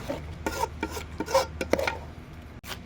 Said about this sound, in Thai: พี่ติ๋วจะคั่วหมูนะคะ